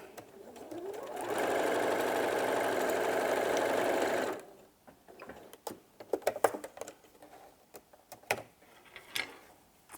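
Sewing machine stitches a zip for a kneeling cushion in one steady, loud whirring run of about three seconds, then stops, followed by scattered clicks and handling knocks.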